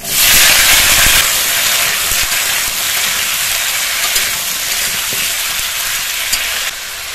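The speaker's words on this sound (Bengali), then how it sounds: "এর মধ্যে আর অল্প পরিমাণে তেল দেব। তেজপাতা, কালো জিরে দেব, আলু দিয়ে দেব" Potatoes frying in a wok of oil with bay leaf and nigella seeds, giving a loud, steady sizzle and hiss throughout with a sharp burst at the start, no talking.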